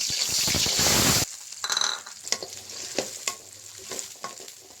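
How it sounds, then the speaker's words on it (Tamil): Onions hit hot oil in a kadai with a loud burst of sizzling, then settle into lighter frying crackle broken by several sharp stirring scrapes and clinks of a spoon against the pan. "எண்ணெய் நல்லா சூடாயிடுச்சு. இப்போ ஆனியன் ஆட் பண்ணிக்கலாம்."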